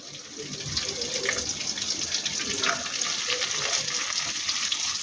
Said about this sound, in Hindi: यहाँ पर अब प्याज, ऑनियन वगैरह, ठीक है, ये थोड़ा सा हम इसको फ्राई कर लेंगे।